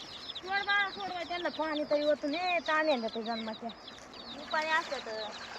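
Chickens caught and held since morning cluck and squawk in repeated bursts of short, rising calls close by, pausing briefly before another flurry.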